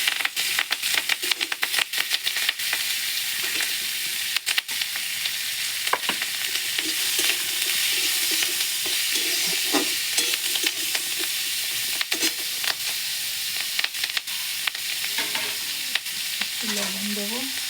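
Spring onion stalks and pre-boiled kohlrabi sizzle steadily in a small amount of oil in a pan, a continuous close hiss broken by repeated scraping and clattering stirs of a spatula, with no talking.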